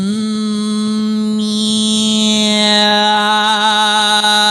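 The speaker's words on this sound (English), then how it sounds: "focusing on that with a nice strong hum." A person hums one strong, steady low note, resonant and loud, held continuously with a slight shift in tone partway through.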